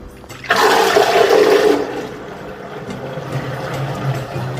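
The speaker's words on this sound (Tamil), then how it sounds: "இப்போ இந்த தண்ணியும் நம்ம கீழே ஊற்றிட்டு" Soaking water from rice gushes out in a loud burst for about a second, then tapers into a softer trickle and drain gurgle, with no talking.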